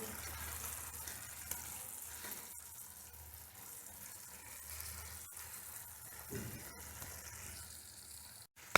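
Pieces of chicken being stirred into sauce in a hot frying pan for dragon chicken, a faint steady sizzle with occasional soft scrapes and clinks, quiet and close.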